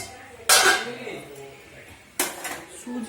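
Plates and metal cutlery clatter as a plate of food with dal and large luchi is laid out: two sharp, loud clanks about two seconds apart, each followed by brief ringing rattle, with faint background noise between.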